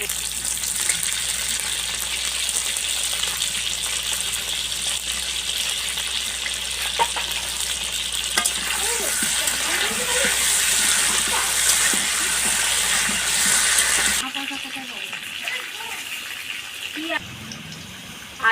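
Potatoes fry in hot oil with turmeric in a home kitchen, a dense loud sizzle with bubbling that holds for most of the stretch, then drops sharply quieter near the end, with brief faint voices in the background.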